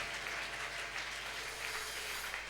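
Congregation at a church service applauding together, a steady wash of many hands clapping at moderate distance, continuous and fairly even throughout with no voices rising above it.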